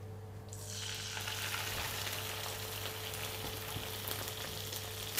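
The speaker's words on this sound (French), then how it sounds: "Et on saisit le poisson 1 minute côté peau." A Norwegian cod fillet searing skin-side down in hot olive oil, a steady close sizzle that jumps in loudness as the fish hits the pan and holds evenly, with a low hum beneath.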